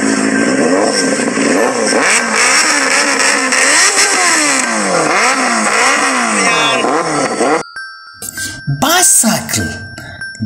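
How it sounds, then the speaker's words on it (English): A motorcycle engine revs repeatedly, its pitch rising and falling in quick waves, loud and close, before cutting off into a few brief clatters. "Motorcycle. This is a motorcycle."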